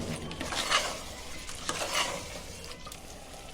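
Mutton pieces sauté in masala for zafrani biryani, giving a soft, low sizzle broken by a few scraping stirs of a spoon against the pot, fairly quiet and without talk.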